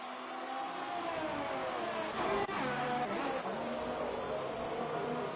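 Race cars roar along the back straight in a racing video game, a steady, sustained engine drone with a shifting pitch as one car trails another closely, no talking over it.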